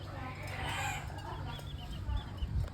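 Chickens in a coop, some sick, cluck and chirp in short bursts over a steady low background hum, fairly quiet and close.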